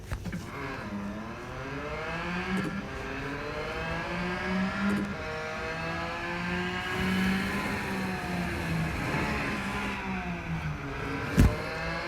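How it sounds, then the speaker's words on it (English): Race cars in the Real Racing 3 video game accelerate with a steady engine drone and rising, overlapping revs. The harmonic whine climbs and falls over a continuous bed of noise, ending with a brief sharp knock. "Let's let these cars go"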